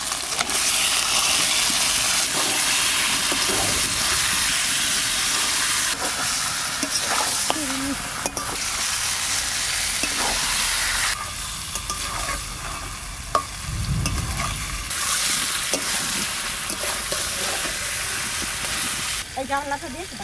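Chicken pieces fry and sizzle in spiced masala in a hot pan, giving a steady, loud hiss broken by bursts of stirring and scraping, with no talking.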